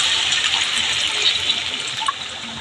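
Water from a rinsed mixer-grinder jar that held mustard and poppy seed paste is poured into a pan of hilsa fish curry, a steady close splashing pour that lasts throughout with no talking.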